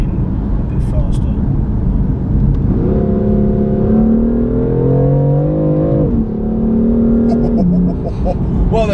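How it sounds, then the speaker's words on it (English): Racing-game engine of a BMW 4 Series rising in pitch as it accelerates through gear shifts, with clear drops in tone at each change, loud and steady with a voice talking over it. "What are those gear shifts?"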